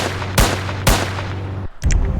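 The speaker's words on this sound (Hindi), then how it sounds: "और अब भाई ने निकाल दिया अपनी कतई खतरनाक मशीन गन।" A machine gun fires in the Indian Bike Driving 3D video game, loud sharp bursts with two heavy blasts, a brief drop, then more firing, with no talking.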